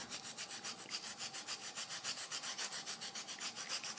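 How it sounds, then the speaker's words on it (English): Coffee pigment is rubbed by hand into a kolrosed wooden coffee scoop, making quick, even back-and-forth scrubbing strokes, about five or six a second, close and soft with no talking. "just take a little bit of coffee and rub it in"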